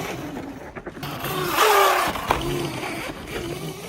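A Tasaca T500-V58 engine revs up briefly as the throttle is pressed, rising over a mechanical rattle, close and fairly loud, with a short scrape partway through.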